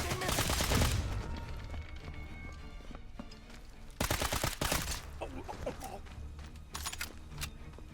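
Submachine gun fire in the World War II shooter Sniper Elite: Resistance, bursts of rapid shots clustered at the start and again midway, with quieter combat noise in between and some talk.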